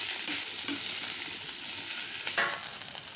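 Kakarakaya (bitter gourd) slices fry in a pan with a continuous soft sizzle, and a few scrapes and taps come as the pieces are stirred.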